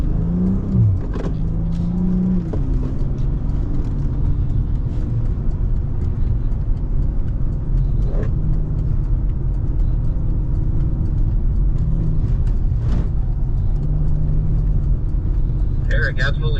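BMW car accelerating hard around a track lap at a driving school, steady loud engine drone and road rumble throughout, with brief voice fragments early on.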